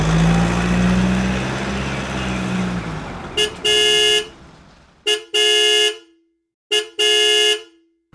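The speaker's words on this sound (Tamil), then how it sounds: "இப்படி நம்ம ஆட்டோ பின்னாடி வந்து ஹாரன் அடிச்சுட்டே இருக்கிறது" Three horn honks from a car behind an auto-rickshaw, each a short tap followed by a longer blast, loud and close, with road rumble fading out before them.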